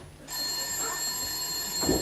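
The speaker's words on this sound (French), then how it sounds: "Le téléphone pleure. Mais non, il sonne, Claude." Telephone ringing nearby, a sustained bright electric bell ring that starts suddenly and keeps going steadily, with a brief thump near the end.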